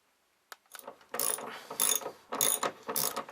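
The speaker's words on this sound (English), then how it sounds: "I can now remove all of the nuts on the inside to replace the chain plates" A ratchet wrench clicking as it backs off chain plate nuts inside a boat, in several close, crisp bursts of rapid ticks separated by short pauses.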